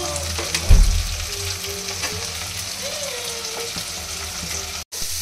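Beaten egg seasoned with salt and pepper is poured into a hot pan, giving a sharp thump and a burst of sizzling, then a steady close frying crackle with light stirring taps.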